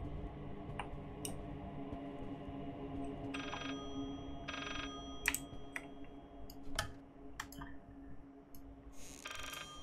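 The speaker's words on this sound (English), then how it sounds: "I hear the phone. Where is the phone?" Telephone ringing in the horror video game Layers of Fear: a few short, bright ringer bursts repeat at intervals over a low, droning ambient background, fairly faint and with no talking.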